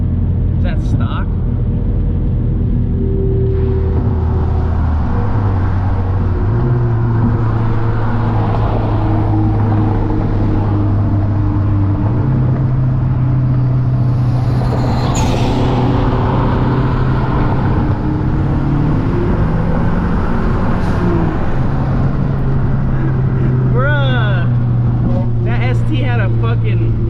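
A Mazdaspeed3 engine drones and rumbles steadily through an exhaust with an open ball valve, holding a loud, stepped tone from close up while people talk over it.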